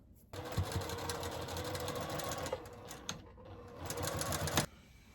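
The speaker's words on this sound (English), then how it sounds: "I'm going to give it a back stitch at the beginning and at the end, taking my pins out as I go." A sewing machine with a 1/4 inch foot stitches a quilt sashing seam, a fast continuous mechanical whir that runs for several seconds, pauses briefly for the back stitch and resumes, close and steady.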